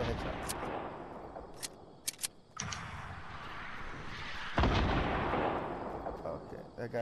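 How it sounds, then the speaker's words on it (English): Gunfire in a video game, a run of sharp bursts and shots with a heavier blast midway, heard close and loud alongside voices in the background. "Oh, they're shooting at him."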